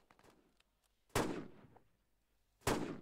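Two sharp, loud sniper rifle shots in a first-person shooter game, spaced about a second and a half apart, each with a booming decay, with faint game sounds between them.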